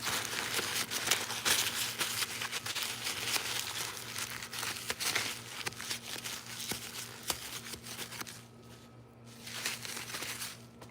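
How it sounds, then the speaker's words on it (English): Paper towel wiping away wax and grease remover spray on a surface in a garage, a steady close crinkling and rubbing texture that runs continuously, easing briefly near the end. "Take your paper towel."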